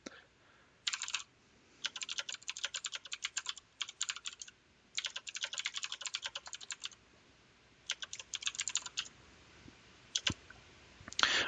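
Lyrics are typed on a computer keyboard in MuseScore notation software, with bursts of rapid, light key clicks separated by short pauses, close and fairly quiet, ending in a few isolated taps.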